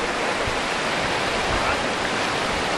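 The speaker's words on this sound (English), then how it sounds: "Here comes the water." Ocean tide surging in over the sand at Tybee Island beach makes a steady, loud, broadband rushing wash that fills the whole stretch without pause.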